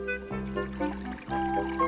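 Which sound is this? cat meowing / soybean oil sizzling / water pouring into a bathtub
water pouring into a bathtub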